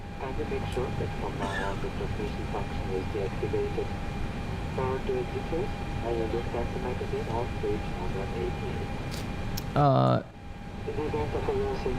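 Airbus A320 cockpit ambience from a Lufthansa sound pack in X-Plane 11, a steady engine and systems drone with tonal hums, overlaid by radio chatter and a short beep near the end.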